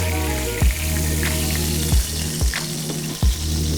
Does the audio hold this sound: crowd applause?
no